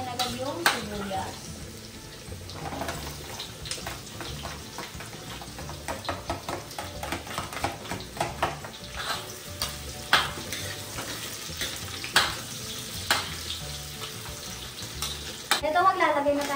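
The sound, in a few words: sautéing garlic and onion in hot oil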